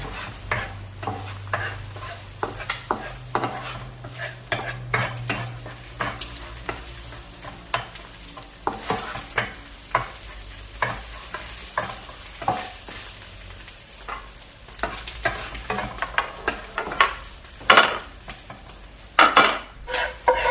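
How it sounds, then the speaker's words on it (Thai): Repeated scraping and clinking of a utensil stirring eggs in a pan over a low sizzle of frying, steady and close, with no voices. "ตอกไข่ใส่กระทะแล้วเราก็คนไข่ให้ไข่พอสุกนะคะ"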